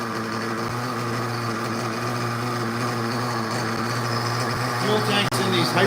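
An OS nitro engine runs on a Hyper 8 RC car, a steady high-pitched buzzing drone that holds a constant tone throughout with a brief dip near the end.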